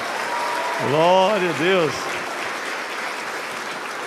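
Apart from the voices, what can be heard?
church congregation clapping in worship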